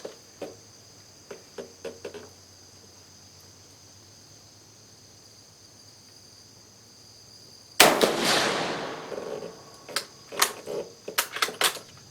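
A Carcano M91/24 rifle fires reduced-charge rounds outdoors on muddy ground: one sharp, loud report near the end followed by a decaying tail and a few smaller clicks and pops, after a quiet stretch with faint insect chirping.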